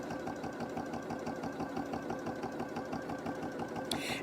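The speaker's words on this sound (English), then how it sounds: "So now what I'm doing with my 1/4 inch foot, I am sewing the side seam." A sewing machine with a quarter-inch foot stitches a pillowcase side seam, its motor and needle giving an even, rapid rhythmic chatter throughout, close and clear with no talking.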